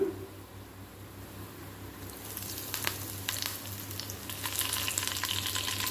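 Curry leaves dropped into hot oil for a tempering of tamarind-leaf chutney, already holding browned urad dal: a quiet sizzle that swells into loud, crackling spitting after a couple of seconds, with no talk.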